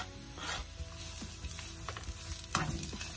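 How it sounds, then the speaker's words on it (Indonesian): Onion sautés in a little olive oil, a steady close sizzle with repeated spatula scrapes and taps against the pan, no one speaking. "Kita tumis onion"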